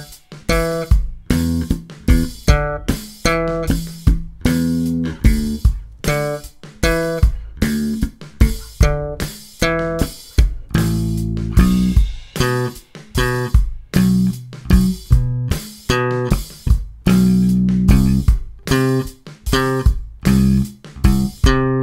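A beginner slap bass line on bass guitar, played slowly: punchy, percussive thumbed and popped notes in a steady repeating groove, close and clear with no voices.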